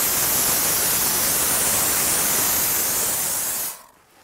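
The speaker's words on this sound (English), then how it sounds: "when I spray foam the area that was done last week" Spray foam insulation hissing steadily out of the nozzle as gaps in a wall are filled, a loud continuous close spray that cuts off sharply near the end.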